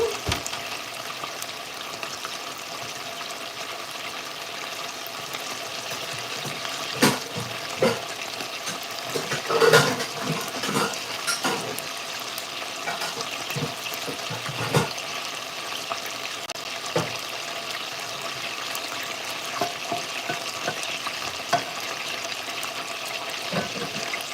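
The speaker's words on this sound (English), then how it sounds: "And let it sear." Chicken sears in a pot for a spicy adobo, giving a continuous moderate sizzle with scattered pops, scrapes and clinks over roughly twenty-four seconds, no voices.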